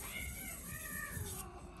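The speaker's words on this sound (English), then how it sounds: "Cat's going mad in the background." A cat meows and yowls insistently in the background of a room where a folding knife is being sharpened, the calls faint and distant but continuous.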